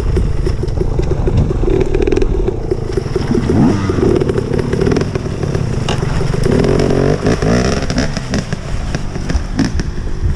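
An enduro motorcycle engine runs loud and close at an outdoor enduro event, its rough rapid crackle and revving continuous throughout, with a faint hint of a voice.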